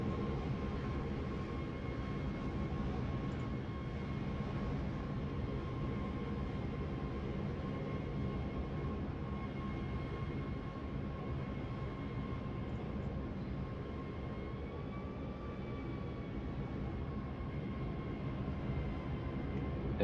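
A jet airliner's engines roar steadily in Microsoft Flight Simulator as it climbs away in a go-around after a landing attempt, a loud continuous drone with faint whining tones throughout and no talk.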